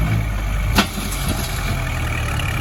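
A Kubota L5018 tractor, customized in a showy truck style, idles with a steady low rumble that stays even and close throughout, with no one talking.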